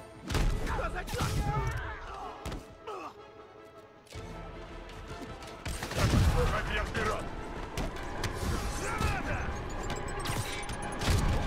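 Gunfire in Marvel's Spider-Man comes as loud, repeated gunshot bursts and crashes in a chaotic fight, with voices talking over parts of the action.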